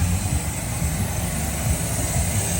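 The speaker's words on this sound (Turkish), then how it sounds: "Evet beyler bu da böyle bir traktör silindir" A Taylor Bros tractor-type road roller from a rolling contractor in Wimbish, Essex, shown at a Cambridge festival, runs with a steady low engine rumble and broad mechanical noise, continuous and close, with no talk.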